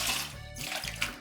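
Water pouring and splashing into a cooking pot for mandi rice, a short burst of running liquid heard up close.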